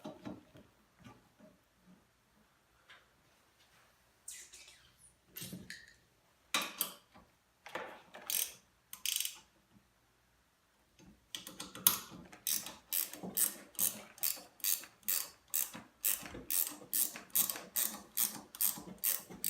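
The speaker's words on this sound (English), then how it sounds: "Now you have 4 more screws on the bottom. You're going to need your wrench for that." A ratchet wrench loosening the bottom screws of an adjustable riser on a Ski-Doo REV XS snowmobile, close clicking in irregular bursts at first, then a fast regular run of ratchet clicks.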